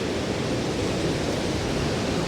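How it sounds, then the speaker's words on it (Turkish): Black Sea surf breaking on the shore at Zonguldak, a steady, dense wash of roaring water noise that holds evenly for a couple of seconds with no voices. "Çok dalgalı değil mi ya? Karadeniz sonuçta."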